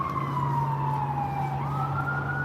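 An ambulance siren wails steadily on a city street in Washington DC, its tone sliding slowly downward as it moves past, loud and continuous over a low rumble of traffic.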